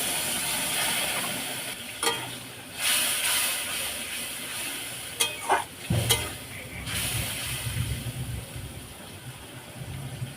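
Hilsa biryani ingredients being stirred and fried in a pan: a low sizzle with bursts of scraping and a louder hiss midway, close by.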